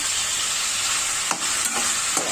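Spice paste of turmeric and dry red chilli paste sautéing in a pan for prawn curry, a steady close sizzle with a few brief stirring scrapes.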